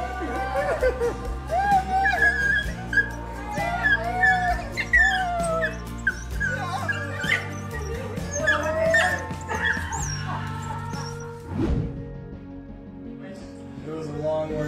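A dog whimpers, yips and breaks into drawn-out howls as a soldier comes home, a run of high wavering cries close by, with people talking and reacting around it.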